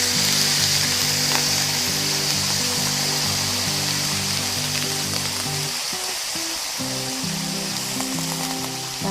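Chicken liver for adobo frying in a pan, a loud, constant close sizzle with the scrape and clatter of stirring running underneath throughout.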